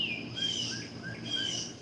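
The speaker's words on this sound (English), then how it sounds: "Oh, the bird's gonna interrupt." Bird chirps repeat in short whistled phrases over a steady background hiss, fairly close and moderately loud, with no voices.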